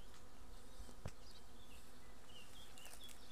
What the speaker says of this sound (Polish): pierwszy rój w naszym pierwszym ulu.